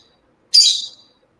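A pet bird gives a single short, high, sharp call, close and clear against silence.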